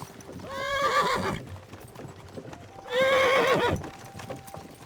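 A horse in Kingdom Come Deliverance 2 whinnies twice, loud and close, each neigh a wavering high cry, with soft hoof clops and movement in between.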